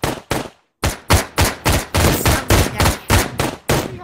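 Rapid bursts of AK rifle fire in a zombie survival video game, about a dozen loud, evenly spaced shots after a brief pause, close and sharp with no talking.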